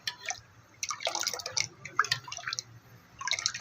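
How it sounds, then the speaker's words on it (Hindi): Water for a fish curry bubbles in a cooking pot, a busy run of close, irregular pops, drips and gurgles rising and falling over a few seconds. "तो बहुत ज़बरदस्त बॉईल हो चुका है"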